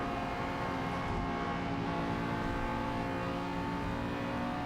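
A car in a racing video game, its engine buzzing steadily with a thin, raspy exhaust note, continuous and loud throughout with no pauses.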